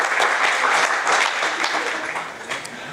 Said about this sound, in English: a big round of applause, if you would